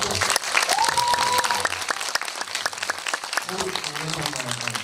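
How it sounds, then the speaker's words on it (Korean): An audience at an occult-themed film night with a director breaks into sustained, dense applause, close and loud, with a few voices and whoops rising over the clapping. "박수 한번"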